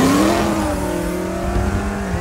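A heavily modified Ford GT500 running E85, built for over 800 wheel horsepower, revs on a dyno: a loud, close engine roar with a rising pitch that holds steady.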